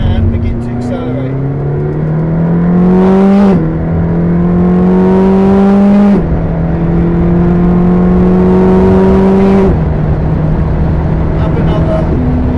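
A McLaren 620R accelerates hard on the Silverstone circuit. Its loud, close engine note climbs through three upshifts, each marked by a sharp break in the tone before it rises again.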